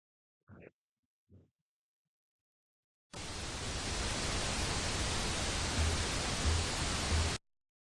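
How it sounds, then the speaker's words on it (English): Steady broadband pink noise test signal switches on abruptly and holds at a constant level for about four seconds before cutting off, preceded by two brief faint knocks in near silence. "now I need to turn on the pink noise"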